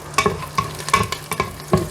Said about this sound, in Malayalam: ഇതിലേക്ക് ഞാൻ 6 വെളുത്തുള്ളിയുടെ അല്ലി അരിഞ്ഞു വെച്ചതിടുന്നു.